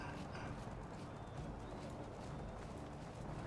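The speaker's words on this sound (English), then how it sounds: "Oh, we've got Cossack cavalry." Cossack cavalry horses galloping in Empire: Total War, a dense continuous rumble of many hooves blended into a steady loud battlefield wash without pause.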